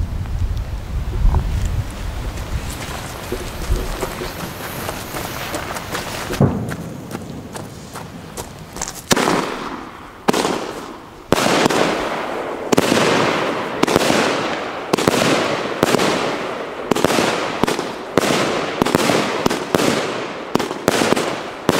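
A Klasek F3 Meteor 25-shot fireworks cake fires chrysanthemum-on-blossom shells, a steady run of sharp, loud launch thumps and bursts in quick rhythm after a stretch of wind noise.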